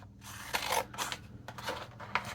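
Scissors snip through magazine paper up close, several quick crisp cuts in uneven rhythm with soft paper rustle between them.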